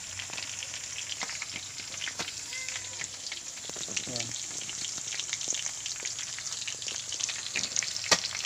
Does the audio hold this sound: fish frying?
yes